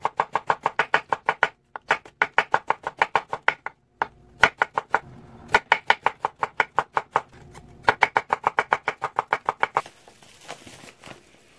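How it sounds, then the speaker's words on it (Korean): Rapid knife strokes julienning radish against a cutting board in quick rhythmic bursts, with brief pauses between runs of fine, even cuts. "이제 무 한번 썰어 보겠습니다. 무는 가늘게 채썰어 주시면 됩니다."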